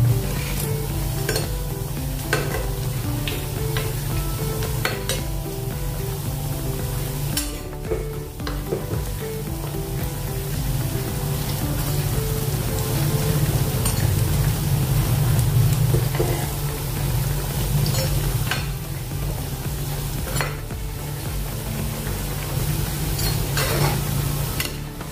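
Raw potato snack frying in hot oil over medium heat, a loud steady sizzle with occasional scraping and knocks as the pieces are turned over in the pan.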